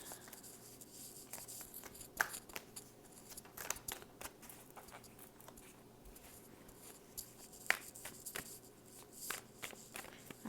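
Tarot cards are shuffled by hand during a reading, giving faint, quiet riffles and soft irregular flicks and taps scattered through a hushed room.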